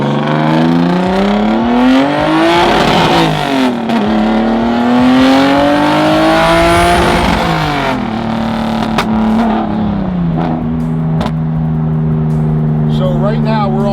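A 1000hp BMW 335i with a built motor, a big single turbo and a manual gearbox accelerating hard. The engine drone climbs in pitch, drops at a shift, then rises again, loud and close from inside the car, with voices over it.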